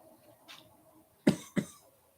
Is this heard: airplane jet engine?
no